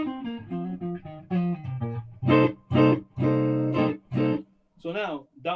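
Clean electric guitar through a Fender Pro Reverb amp playing a melodic phrase of single notes, then ringing strummed chords with a warm, full amp tone and a touch of reverb.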